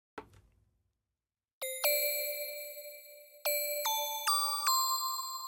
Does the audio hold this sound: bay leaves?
no